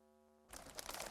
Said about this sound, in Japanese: 大抵のことは見ざる聞かざるな宗十郎も今の羽音は聞き過ごせなかった